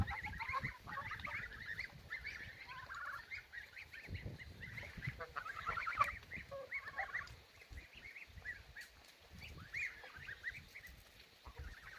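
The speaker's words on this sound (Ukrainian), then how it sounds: "Ось йдуть двоє. Старші гусята." Young geese of a large breed, about two months old, honk repeatedly near the microphone in an outdoor yard, their calls overlapping in irregular bursts with short pauses.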